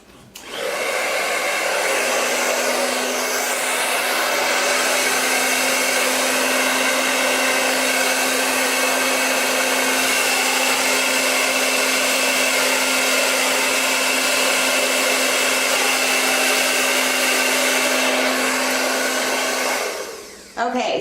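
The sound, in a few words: hair dryer blowing acrylic paint cell activator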